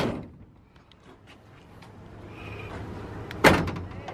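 A loud pop and thud as an electric door popper releases a shaved truck door open, preceded by a quiet room and a faint whir.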